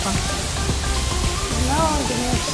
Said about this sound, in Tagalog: Grabing ulan. Lakas ang ulan.